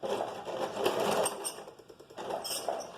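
A sewing machine stitches a vest's lining to its upper fabric with a short backstitch at the start, running as a steady, close mechanical whir that pauses briefly near the middle before resuming.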